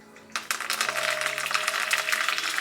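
Cumin, crushed garlic, dried red chillies and curry leaves spluttering in hot oil for a tempering, a sudden burst of sharp crackling pops that carries on densely after a quiet start.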